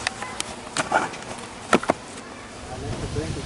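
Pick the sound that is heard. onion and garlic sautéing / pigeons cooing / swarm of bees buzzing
swarm of bees buzzing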